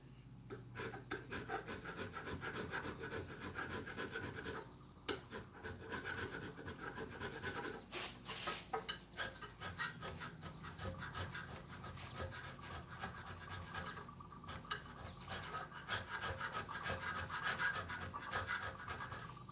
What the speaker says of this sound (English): the more little pieces of bluing I have to scrape off.